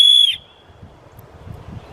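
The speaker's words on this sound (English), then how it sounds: "Testing the whistle now." A survival kit emergency whistle gives one short, piercing, very loud blast up close, cutting off abruptly and followed by faint rustling and room noise.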